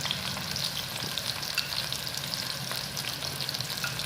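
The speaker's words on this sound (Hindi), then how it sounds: "अभी प्याज हमारा गोल्डन हो रहा है।" Onions frying golden in a pan for Lahori chickpea chole, a steady close hiss and crackle of oil with faint stirring scrapes, no talk.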